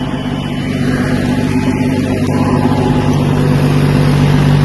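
A tractor runs a Sarvashakthi rotavator with a steady, loud, close engine drone that holds an even pitch throughout.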